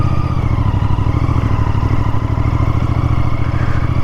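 Royal Enfield Interceptor Bear 650 motorcycle ridden on the road, its parallel-twin engine thrumming loud and steady with a continuous low rumble and some mechanical clatter, no talking.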